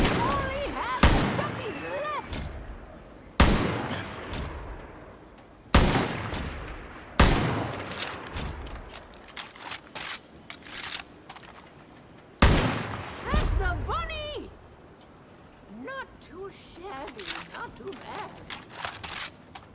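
Separate sharp gunshots and short bursts from the video game Far Cry New Dawn crack out every few seconds, loud and punchy with echoing tails, interspersed with quieter stretches and speech.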